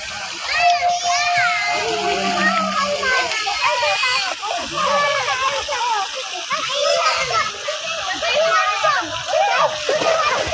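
People, children among them, splash and slosh in water while swimming outdoors in the countryside, constant nearby splatter mixed with excited chatter and shouting throughout.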